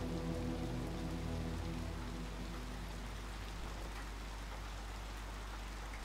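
Steady rain pattering in the video game Little Nightmares II, a continuous soft wash of falling drops with a low rumble fading early on, no voices.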